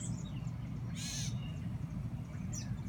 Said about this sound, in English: Boy, the birds are going crazy. I think maybe there's some hatchlings.